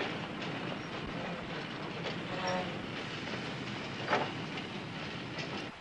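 Railroad wagons of a train rolling along the rails, a continuous rumble with rhythmic clickety-clack and a brief metallic squeal, fairly close and steady throughout.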